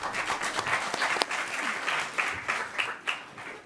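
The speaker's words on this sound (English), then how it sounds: "round of applause again." A student debate audience claps in a steady round of applause, mid-loud and fairly close, lasting a few seconds with uneven bursts.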